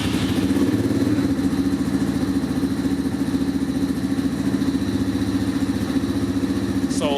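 Apollo DB36 dirt bike engine idling on full choke on a very cold day, a loud close rapid putter steady throughout, with a brief higher whine near the end.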